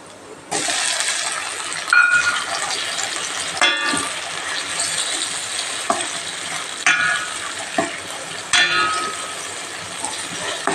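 Tomato and soya beans fry in a pan for a soya bean sukka, a continuous bright sizzle with repeated scraping stirs and clinks of a spatula, close and steady throughout.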